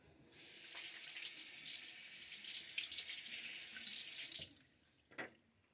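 A tap runs steadily into a sink for about four seconds while a Gillette Nacet blade in a Karve brass safety razor is rinsed, close and fairly loud. The flow then cuts off, followed by a few faint clicks and a drip.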